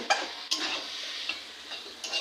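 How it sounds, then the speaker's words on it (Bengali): Masala mixed into noodles in a pan gives a short run of soft scraping and stirring strokes, a few sharper clicks of a utensil against the pan, and a faint sizzle underneath. "ভালো করে মশলাটা মিক্স করে দেবো নুডলসের সাথে"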